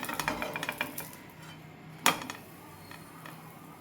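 A spatula flips a banana pancake in a pan with one sharp clink near the middle, after a few light scraping taps, over a quiet kitchen background.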